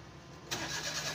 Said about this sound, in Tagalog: So paandarin natin.